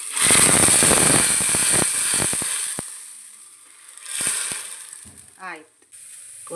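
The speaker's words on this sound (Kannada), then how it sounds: "ಈ ಸಾರಿಗೆ ಆ ಬೆಳ್ಳುಳ್ಳಿ ಒಗ್ಗರಣೆ ಹಾಕಿಬಿಡ್ತೀನಿ." Garlic tempering in hot oil tipped into kokum rasam gives a loud, close sizzle that fades over a few seconds, followed by a brief second hiss and a few soft clatters.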